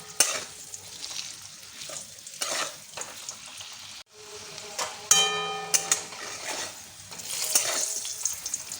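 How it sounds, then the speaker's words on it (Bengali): Boiled potatoes fry in hot oil in a pan, a steady close sizzle broken by occasional stirring scrapes and utensil taps, with no talk. "আলুগুলো আমার ভাজা হয়ে গেছে"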